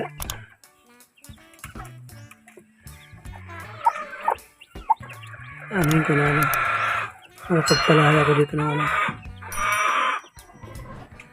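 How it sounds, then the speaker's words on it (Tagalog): Native chickens with young chicks cluck around a farmyard, with a prize-winning rooster among them. Soft clucks run under a man's speech, then louder bursts of calling rise near the end. "manok"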